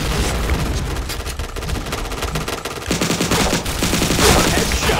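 Rapid, loud gunfire from the shooter video game Point Blank, dense automatic bursts filling the whole stretch with no pauses and a heavier volley in the second half.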